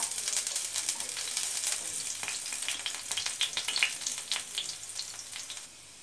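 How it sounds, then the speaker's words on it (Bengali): Chopped garlic frying in oil in a pan, a bright, close, crackling sizzle that pops continuously before quickly tapering off at the end. "রসুনটা একটু লাল করে ভেজে নিতে হবে।"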